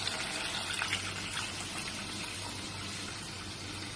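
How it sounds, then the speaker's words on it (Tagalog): Water pours steadily into a pot while fried chicken is being prepared, a continuous gushing stream lasting a few seconds at moderate volume, with no voices. "After, lagyan natin yung tubig."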